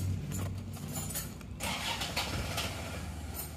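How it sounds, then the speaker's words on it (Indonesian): A car engine cranks on the starter and catches, settling into a steady, close idle with no talk; the engine has a fault, blowing smoke again after about 1,500 km following a repair attempt. "Yuk kita starter dulu"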